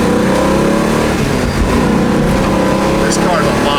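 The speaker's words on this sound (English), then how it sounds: "The car gets out of the hole hard." A 1966 Shelby Mustang GT350 with a Hurst shifter accelerates hard, its engine roaring loud and close with rising revs throughout, a steady broadband rush from start to finish.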